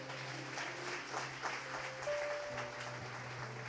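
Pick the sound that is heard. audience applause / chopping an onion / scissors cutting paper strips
audience applause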